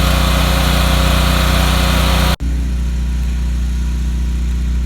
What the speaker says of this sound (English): Once we have the generator running,